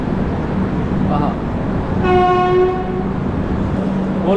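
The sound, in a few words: Howrah Puri Superfast Express train arriving at platform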